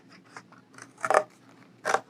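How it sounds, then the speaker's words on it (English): Scissors snipping through a cardboard circle in a few crisp cuts, quiet and close, with the last two cuts louder and longer. "you're just going to cut out the circle"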